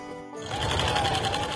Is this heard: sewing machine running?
yes